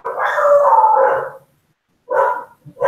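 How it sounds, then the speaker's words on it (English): A dog lets out a long, loud howling bark, then after a pause gives another short bark and the start of a third, reacting to other dogs barking, close to the listener with no talking. "My dog's going nuts because she hears the other dogs barking"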